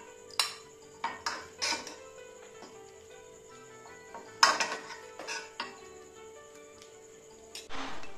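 Thickened mawa payesh being spooned from a pan into a bowl, with a handful of sharp metal clinks and scrapes of a spoon against cookware spread across a quiet kitchen and a steady faint hum underneath.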